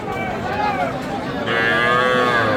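Heifer calves moo loudly and close by at a cattle market, a long drawn-out call rising into a second stronger bellow amid market background noise.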